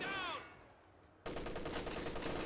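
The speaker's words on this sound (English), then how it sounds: "MG34 firing on these conscripts by the munitions." MG34 machine gun in the WWII strategy game Company of Heroes, opening after a short lull with sustained rapid bursts of automatic fire at moderate loudness.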